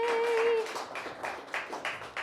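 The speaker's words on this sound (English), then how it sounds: "keep the claps coming" An audience claps in a short burst of applause that fades into scattered claps, quiet and somewhat distant, with a sustained tone at the start.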